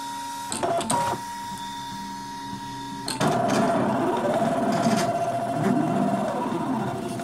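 Electronic cutting machine slicing paper Christmas ornament patterns for quilling, a steady mechanical whir with carriage clicks and rising and falling motor tones, close and fairly loud, growing busier after a few seconds.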